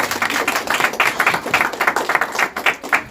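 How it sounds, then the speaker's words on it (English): Audience clapping at a talk, a brief burst of many hands with a fast, slightly rhythmic patter, fairly close and loud throughout. "round of applause for Prabhupada"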